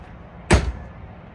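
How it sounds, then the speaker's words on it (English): A door shuts with a single sharp, close thud that fades quickly into quiet room tone. "Can you please shut the door?"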